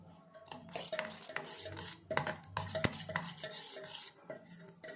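Ingredients for an egg masala curry, including cumin-coriander powder, are stirred and mixed with a spoon in a pan, giving busy close scraping and clinking that runs throughout with no talk.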